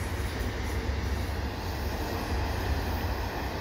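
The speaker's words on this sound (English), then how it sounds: "And there it is, passing that line of grain hoppers." A CN freight train with ES44AC locomotives and double-stack cars rumbles past close by at Pullman Street, a steady heavy roar of wheels on the rails with faint squeals above, constant throughout.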